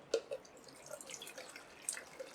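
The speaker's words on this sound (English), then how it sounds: "so we can pour out the developer" Film developer poured out of a black-and-white reversal slide processing tank, heard as faint splashes and drips of liquid falling into a container, quiet and intermittent over a couple of seconds.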